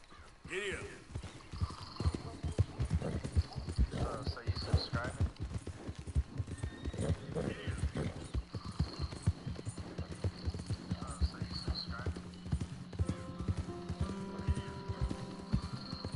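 A horse in the video game Red Dead Redemption 2 gallops with a steady, rapid clip-clop of hooves throughout, joined by a brief whinny, under occasional talk.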